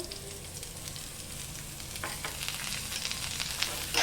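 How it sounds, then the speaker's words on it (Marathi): Onion and garlic fry in two spoons of hot oil, a soft continuous sizzle with occasional stirring scrapes, close but fairly quiet and without speech. "आता आपण कांदा आणि लसूण भाजून घेऊया त्यात आपण ना दोन चमचे तेल टाकायचं आहे"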